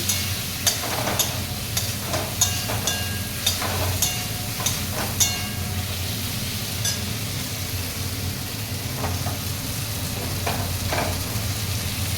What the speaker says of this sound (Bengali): সবই আলু ভালো করে কষিয়ে নিচ্ছি